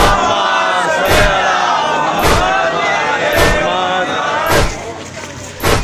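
A large crowd at a Muharram procession chants salawat loudly in unison, with rhythmic surging bursts of many voices repeating roughly every second, dense and close.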